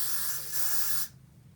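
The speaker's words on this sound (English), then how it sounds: "I spray on a little bit" Got2b Glued freeze hairspray misted onto a wig during installation: one close, steady hiss lasting about a second before cutting off abruptly.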